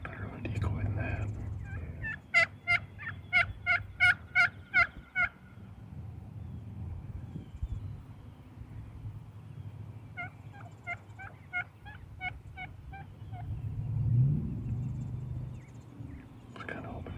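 Wild turkey gobbling in the woods during hunting season: two bursts of rapid, rattling gobbles at moderate distance, the second a little fainter, over a low outdoor rumble with soft whispering nearby.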